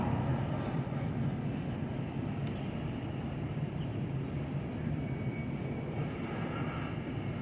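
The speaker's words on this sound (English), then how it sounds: "And here's the end of the train." A freight train of Conrail and CSX cars rolls past a block signal as a continuous, fairly loud rumbling roar that holds steady throughout, with no voices.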